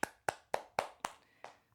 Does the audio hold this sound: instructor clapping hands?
yes